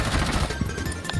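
Gunfire in Rainbow Six Siege, a dense burst of rapid shots crackling loudly across a short moment.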